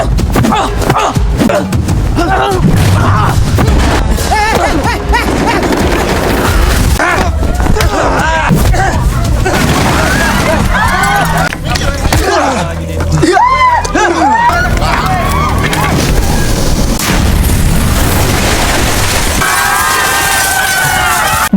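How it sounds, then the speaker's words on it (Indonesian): Explosions and crashing impacts from a horror film's climactic fight, loud and continuous with dense booms, thuds and clamor layered over a dramatic score and shouting voices throughout. "Dengan diakhiri ledakan epik,"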